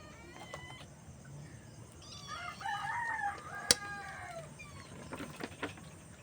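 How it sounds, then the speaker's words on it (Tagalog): Pestering cats meow around feeding time on a rural home, a few drawn-out rising and falling calls in the middle of the stretch over steady background noise, with faint fowl-like calls nearby. "Makukulit itong mga pusang to."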